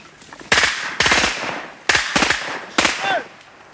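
Rifle fire in a horror movie scene: three loud, close bursts of rapid shots, each a cluster of sharp cracks with ringing tails, separated by brief pauses.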